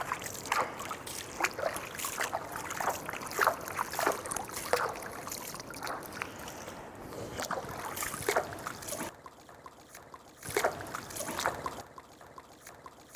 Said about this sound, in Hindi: पैर धोने में भी दाएं पैर को पहले धोएंगे फिर बाएं पैर को, और उसमें भी उल्टे दाएं हाथ से पानी डालेंगे